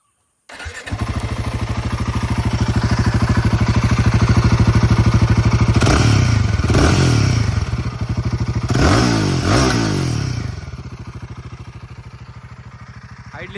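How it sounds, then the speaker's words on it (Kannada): A Royal Enfield Himalayan 450 motorcycle with a short silencer fires up and settles into a loud, close, throbbing exhaust note, with a couple of sharp throttle blips midway before easing back to idle. "ಸ್ಟಾರ್ಟಿಂಗ್ ಅಲ್ಲಿ ಈ ರೀತಿ ಸೌಂಡ್ ಬರ್ತದೆ."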